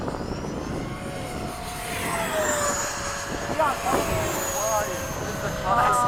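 RC model jets, E-flite Havoc and FMS 80mm Hawk, fly in formation at sunset, their ducted-fan engines whining and sweeping in pitch at a moderate distance while people talk and shout nearby.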